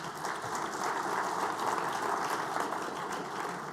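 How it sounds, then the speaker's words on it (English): Dense, continuous applause from a conference audience at the closing session of the World Circular Economy Forum 2022, fairly loud and even throughout with no speech. "Can we hear a round of applause for McDonald?"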